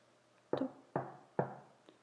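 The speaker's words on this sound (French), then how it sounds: "Qui frappe à la porte de la petite taupe?" Three firm knocks on a door at an even pace, followed by a fainter fourth tap, each sharp and close against a quiet background.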